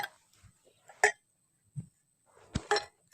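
Sparse metallic clinks and knocks as a cooled metal container of cooked small fish is handled and opened, close by, a handful of separate taps with quiet gaps between.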